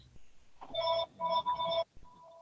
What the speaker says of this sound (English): And my phone's ringing in the background.